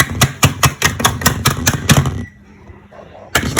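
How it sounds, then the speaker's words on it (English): Rapid, evenly spaced knife chops on a board while cutting up dried medicated salt, a steady run of sharp close taps that pauses briefly before resuming. "Just keep on chopping it."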